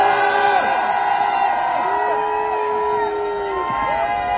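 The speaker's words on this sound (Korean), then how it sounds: "여기 계시는 숭실대 재학생 졸업생 여러분들 함성 한번 부탁드립니다." A crowd of Soongsil University students and graduates at an outdoor anti-impeachment rally shouts and whoops together, with long rising and falling yells sustained over a constant crowd roar.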